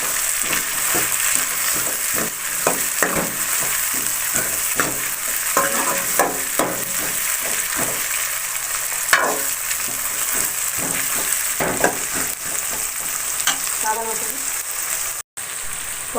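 Three tomatoes and onions sautéing in a pan for a village-style kuravai fish curry, a continuous sizzle broken by repeated scraping and clacking of a spatula stirring, close and fairly loud.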